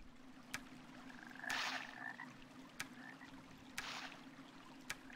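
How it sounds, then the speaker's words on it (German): Frog croaking in the fantasy game Arx Fatalis, two distinct croaks over a steady low hum, with sharp clicks recurring about every second and a half, no talk. "Das war ein Frosch."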